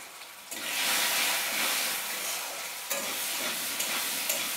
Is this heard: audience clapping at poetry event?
no